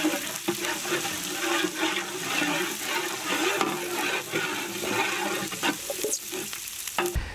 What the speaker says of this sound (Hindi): इसी ऑयल में हम लोग फाइनली चॉप्ड जिंजर और गार्लिक ऐड करेंगे।